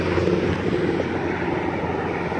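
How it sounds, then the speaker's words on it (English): A steady, loud engine drone from a helicopter overhead near a beach, constant and unbroken throughout, with a low rumbling hum. "Look at this. The helicopter."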